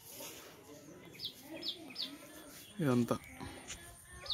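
Birds chirp and call in a home garden with mango and hibiscus plants, a few short high chirps repeating over someone talking, plus a brief louder bird-like cry partway through.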